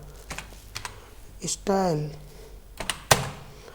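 Computer keyboard typing from an HTML coding lesson: a few scattered key clicks, close and moderately loud, with someone speaking over them.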